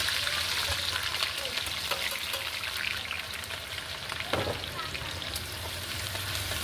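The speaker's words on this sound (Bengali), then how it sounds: "এবার বাদামটা ভাজা হয়ে গেলে দিয়ে দিচ্ছি কাঁচা লঙ্কা কুচি" Chopped green chilies added to frying peanuts in a big pan of oil for a hotel kitchen's samosa potato filling, a dense continuous crackling sizzle with a single clink partway through.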